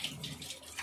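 Water is poured into a cooking pot, giving a faint, steady, hissing splash that runs without a break and with no voices over it.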